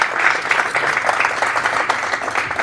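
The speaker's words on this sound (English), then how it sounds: "everyone give a round of applause for Len Jessup" A room full of people applauds speaker Len Jessup at a Tech Alley Henderson funding event, a loud, close, continuous wash of clapping with no voices.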